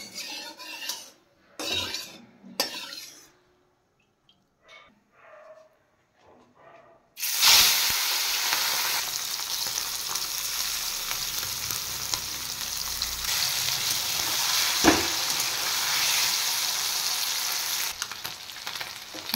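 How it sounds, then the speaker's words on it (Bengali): Small puti fish rubbed with turmeric and salt are dropped into hot oil on a tawa. After several seconds of quiet taps and handling, a sudden loud, continuous sizzle and hiss takes over and holds to the end. "মাছ ভাজার জন্য তেল দিয়ে দিয়েছি, তেল গরম হয়ে গেছে। এবার আমি মাছটা ছেড়ে দেব।"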